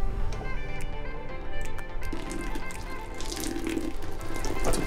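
Water is splashed over a product at a photo shoot: soft splashes and scattered drips and taps, fairly quiet and close.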